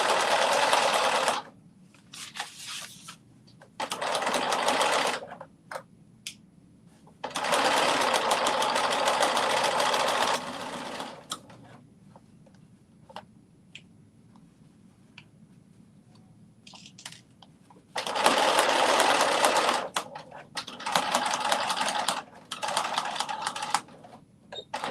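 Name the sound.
sewing machine stitching a garment hem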